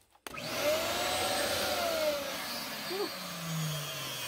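Shop vacuum roars steadily and close for about four seconds after a sharp start, used to clear spoil while directionally drilling a horizontal bore under ground, with faint shifting whines as the hose load changes.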